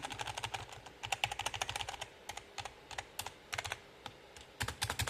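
A mechanical keyboard bought in May 2023, part of a gaming setup, clatters under rapid typing in bursts of sharp, close key clicks with brief pauses between runs.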